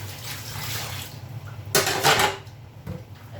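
Tap water runs steadily over dishes at a kitchen sink in a small studio apartment, a close hiss with a louder splashing burst midway and faint clinks of plates and cutlery, without talk.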